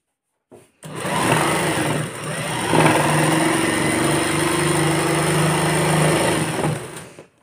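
Sewing machine running steadily for about six seconds as it stitches along a one-inch folded fabric strip for a girl's top, a close, continuous motor whir with no speech.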